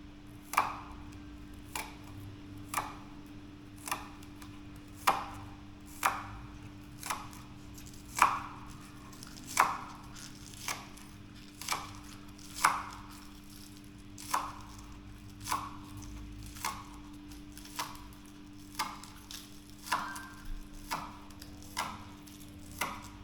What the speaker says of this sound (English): Get the scallion cut up same time.